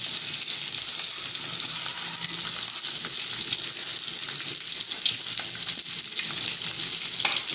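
Eggs frying in a pan, a loud, continuous hissing sizzle close up with faint scraping as they are turned over, steady throughout and without any talk.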